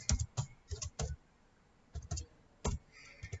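Computer keys tap in short clustered bursts while a print statement is written in code, quick clicks separated by pauses, close and quiet with no voice.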